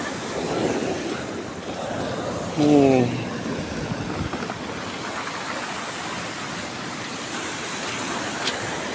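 Waves wash steadily over a stony shoreline, a broad continuous rush with wind mixed in, and a brief voice breaks in near the start.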